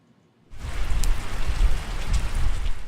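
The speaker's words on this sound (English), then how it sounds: "Rain has kept games away from the softball diamond today" Rain falls on a softball diamond, starting abruptly after a brief silence and then continuing as a steady close patter with a few sharper drop hits.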